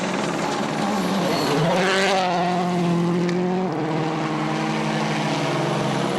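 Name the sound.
Citroën rally car driving on loose gravel stage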